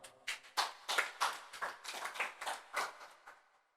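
Audience claps at a forex trading bootcamp morning session, a run of about a dozen distinct, uneven claps and scattered hand taps, fairly faint and sparse, thinning out and stopping at the end.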